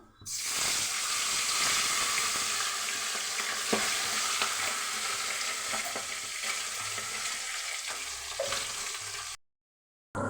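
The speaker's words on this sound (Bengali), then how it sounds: "এখন আমি মাছ ভাজা বসাবো।" Pabda fish frying in hot oil in a home kitchen, a loud, steady sizzling hiss with occasional pops that runs almost unbroken before cutting to a brief silence near the end.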